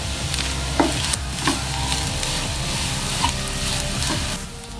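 A masala bonda vegetable filling with salt and turmeric is stirred in a pan, a steady soft sizzle with a few light scraping knocks of the spoon, close and continuous with no speech.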